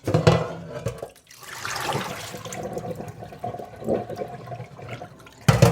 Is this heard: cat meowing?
no